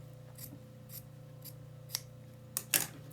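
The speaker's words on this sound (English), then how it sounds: "I'm going to cut it a 1/2 inch above that, and then I'm going to trim it very straight" Scissors snipping upholstery fabric for a mid-century chair, a series of separate crisp cuts spaced about half a second apart, close and quiet, ending in a louder double snip over a steady background hum.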